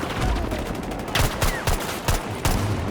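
Bursts of rifle fire from an M1 Garand in a video-game battle with tanks: several sharp, loud shots in an uneven rhythm, close by, with no talking.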